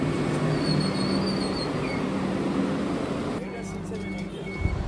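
Bhagalpur–Howrah Vande Bharat Express at a railway station, heard as a loud, steady broadband rumble that shifts in tone partway through, with a faint thump near the end.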